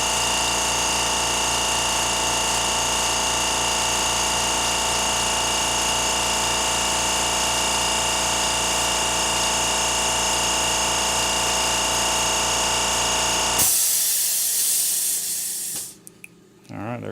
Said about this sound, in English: we're going to let it go here just until the air compressor kicks off